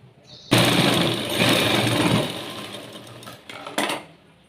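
A sewing machine runs stitches along a blouse edge, finished by machine in place of a hand hem: a loud, close, continuous mechanical whirr lasting several seconds, then a short pause and a second brief burst.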